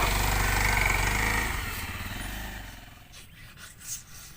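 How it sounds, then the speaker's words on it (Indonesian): A new motorcycle's engine drones loudly, then winds down and sputters as it stalls, leaving faint rattles and scrapes afterward. "Motor anyar kok mogok lho."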